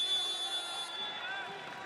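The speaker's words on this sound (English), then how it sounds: "that buzzer means the 25-second possession had come to an end" Basketball shot clock buzzer at a wheelchair basketball game in a large arena, a steady high electronic tone sounding under crowd noise and then cutting off partway through.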